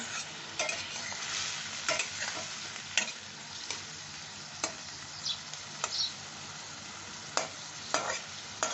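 Softened potatoes fry with nigella seeds in a pan, a close, steady sizzle broken by repeated scraping strokes of a spatula stirring at an uneven pace.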